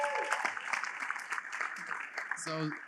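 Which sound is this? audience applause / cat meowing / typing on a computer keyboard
audience applause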